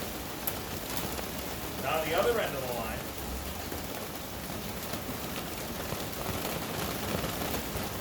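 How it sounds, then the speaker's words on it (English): Steady rain hisses in the background throughout while a person speaks over it, the patter fairly constant and moderately loud. "This rain is absolutely horrible. We've got storms for days here."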